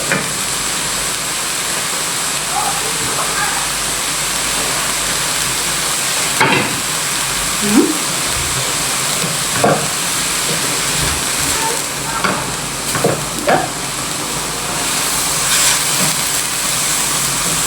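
Chicken sautés in a pan with a continuous soft sizzling hiss, broken by scattered utensil scrapes and small knocks as it is moved around; close and moderately loud, no voices over it.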